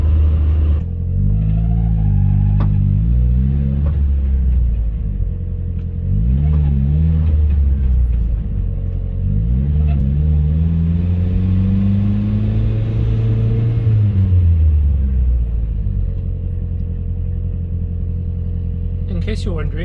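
A car with an aggressive clutch creeps along at very low speed, its engine droning and surging in a steady loud rumble with pitch rising and falling across several gentle throttle swells, with occasional sharp exhaust pops and crackles.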